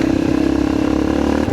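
A motorcycle engine hums steadily and close while the bike rides a bumpy, potholed countryside road, with rattles and clatter from the rough surface and a brief dip at the end.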